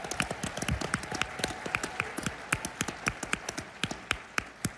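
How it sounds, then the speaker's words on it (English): Scattered applause from an audience at the Conservative Political Action Conference, a thin ragged patter of individual claps with distinct sharp hits, moderately close and without talk. "Let's give them a round of applause."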